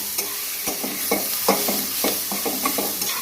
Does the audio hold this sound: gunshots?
no